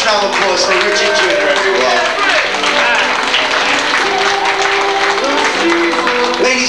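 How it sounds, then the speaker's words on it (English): Guests at a 1989 Italian 25th wedding anniversary party applaud warmly, continuous clapping filling the room, with a voice and background music carrying on beneath the applause. "Let's have a nice round of applause for Richie Jr.,"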